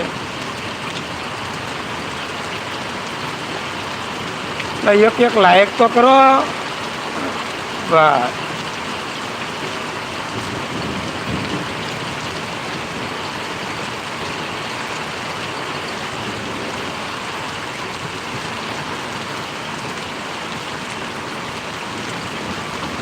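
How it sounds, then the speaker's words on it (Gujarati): Heavy rain pours down steadily in Parvadi village, a continuous wash of falling water heard close by, with someone talking briefly early on and no distinct thunderclap. "ચાલો હવે વરસાદ પાછો વધ્યો"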